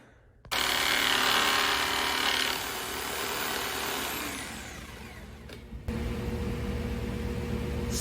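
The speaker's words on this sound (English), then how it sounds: "I gotta do that with the jigsaw" A jigsaw cuts wood corners for a tiny home build, a loud buzzing saw that starts abruptly, eases slightly, pauses briefly, then runs again, close up and without talk.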